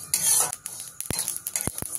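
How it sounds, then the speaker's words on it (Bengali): Whole spices dry-roasting in a pan over a medium flame for a spicy bitter gourd dish, with a soft steady crackle broken by a few sharp clinks and scrapes of a spoon against the pan. "মিডিয়াম ফ্লেমে রেখে অল্প কিছু সময় ভেজে নিলেই হবে।"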